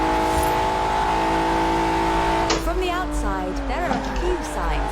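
A Lotus Carlton, the Lotus-tuned four-door Vauxhall saloon, drives in Forza Horizon 4; its engine holds a steady tone, then shifts and revs with sweeping pitch changes while a voice talks over it.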